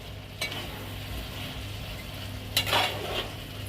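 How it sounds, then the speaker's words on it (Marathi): Chilli potato stirred and mixed in a frying pan: a soft, continuous sizzle broken by two louder scraping, clattering strokes of a utensil against the pan, heard up close with no voices. "एकदम व्यवस्थित मिक्स करून घ्यायचं आहे."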